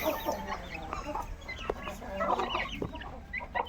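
Several farm chickens cluck in a steady, overlapping chatter at close range, with no talk over them.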